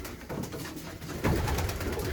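Domestic pigeons coo in a loft, soft low throaty calls close by, swelling louder in the second half over a faint rustling background.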